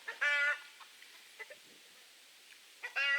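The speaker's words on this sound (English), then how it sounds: "Shut up, chickens." Chickens clucking nearby in short bursts: a loud squawking call at the start, scattered soft clucks in between, and another loud call at the end, with quiet pauses between.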